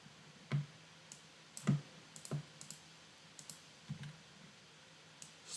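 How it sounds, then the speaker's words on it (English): Computer cursor keys pressed one at a time to nudge an object into place, a handful of separate soft clicks spaced irregularly, close and quiet with no talking. "I'm just using my cursor keys to nudge it down into place."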